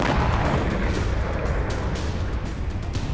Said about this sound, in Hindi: इसके बाद धमाका होता है और टैंक भस्म हो जाते हैं, कुछ इस तरह।